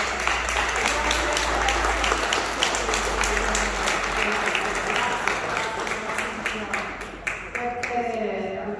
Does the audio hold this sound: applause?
yes